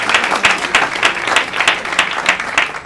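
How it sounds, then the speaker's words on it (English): An audience at a gala bursts into loud, steady applause, many hands clapping densely together for a few seconds with no talk over it. "First off, give a round of applause to yourselves."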